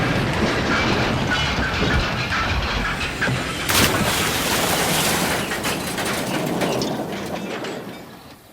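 Thomas the Tank Engine pulling his flour train along the track, a steady rolling rumble with rhythmic clickety-clack and rattling wagons, loud and close throughout with no voices.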